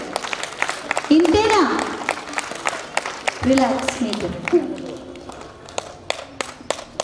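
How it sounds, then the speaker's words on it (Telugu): Scattered audience clapping at a World Peace Jyothi Day gathering during a yoga posture demonstration, sharp sparse claps sounding under a man's close, talking voice. "ఇంకా చప్పగానే కొడుతున్నారండి చప్పట్లు, సరిపోవట్లేదు"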